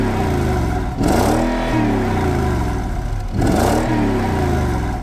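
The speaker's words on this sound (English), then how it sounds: "the engines in these vehicles last a long time and are just a wonderful symphony of V8 noise" Mercedes GL-Class V8 engine revving hard twice, each burst rising in pitch then settling back to a steady, loud idle-level drone, close up with no talking.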